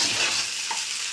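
Chicken egg noodles being stirred and tossed in a frying pan, giving a steady close sizzle with scraping stirring strokes and no voices.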